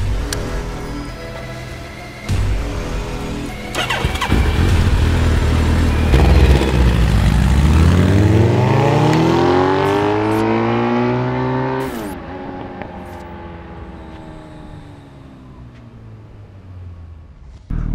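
A motorcycle engine revs up and down, its pitch sweeping high and falling away in loud blasts that rise to a sustained peak before easing off, heard up close with no talking.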